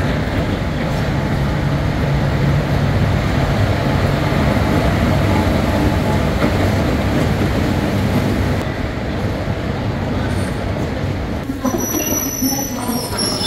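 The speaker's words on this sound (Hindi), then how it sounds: "ये आ गई Tanakpur to Mathura cantt train हमारी।" A Tanakpur to Mathura Cantt passenger train pulls into a station, a loud, sustained rumble of rolling wagons and wheels with some squealing, heard up close throughout.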